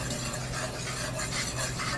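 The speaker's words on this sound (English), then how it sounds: "I'm gonna whisk it." Brown gravy mix whisked briskly in cold water, a continuous close scraping, swishing rattle of the whisk against the bowl with no voices.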